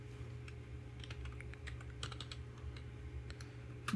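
Keys tapping on a computer keyboard while a ledger name is entered in accounting software, irregular light clicks in quick clusters over a steady low hum, close by with no talking.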